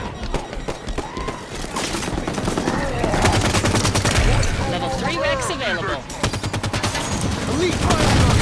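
Rifle fire in the Halo 5 Warzone Firefight mode comes in loud rapid bursts of repeated shots, mixed with other gunfire, game effects and voices throughout.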